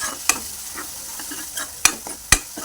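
Tomato and dry fish curry stirred in a pan, a soft low sizzle punctuated by three or four sharp spoon scrapes and knocks against the pan.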